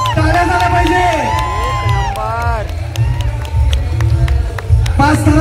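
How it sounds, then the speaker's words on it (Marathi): Large outdoor crowd at a Dahi Handi festival in Pen, cheering and whooping loudly under a women's Govinda troupe's human pyramid, with dense low rumble, shouts and some clapping, and people calling out over the noise throughout. "टाळ्या झाल्या पाहिजे"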